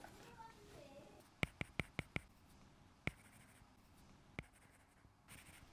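A stylus taps and scratches across an iPad Pro screen fitted with a paper-like textured surface, giving a rapid run of five sharp clicks, then two isolated taps, over soft scratching and quiet background voices.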